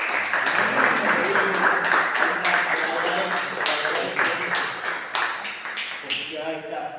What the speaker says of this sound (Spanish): Un aplauso para...